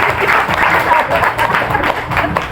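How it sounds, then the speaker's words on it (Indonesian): An indoor audience at a religious talk bursts into sustained, dense clapping that fills the room and stays fairly loud throughout. "Tepuk tangan mereka sekalian."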